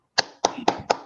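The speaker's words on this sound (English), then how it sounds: "over to our table topics master, Sherrod, with a bunch of happy hands clapping" Four distinct hand claps in a steady even rhythm, sharp and close against near silence, each with a quick decay.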